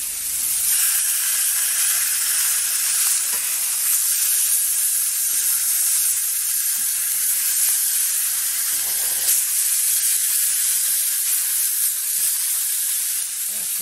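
Pork chops sear in a hot pan, giving off a continuous bright sizzle and hiss that holds steady and fairly loud throughout, with small crackles and pops and no talking.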